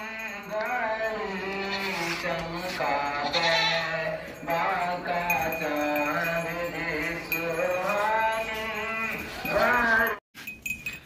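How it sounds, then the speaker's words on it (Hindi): A sacrificial male goat for Qurbani, at a livestock sale, bleats loudly and close by in repeated wavering cries for about ten seconds before a sudden stop. "बकरा देखें माशाल्लाह, बहुत ज़बरदस्त बकरा है, कुर्बानी वाला बकरा है"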